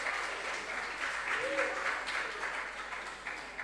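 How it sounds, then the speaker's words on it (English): An audience at a school science and maths quiz applauds the contestants, a soft, distant, continuous patter of clapping. "A round of applause, please."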